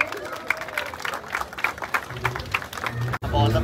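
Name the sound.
audience clapping for first Bajaj Pulsar NS 400 delivery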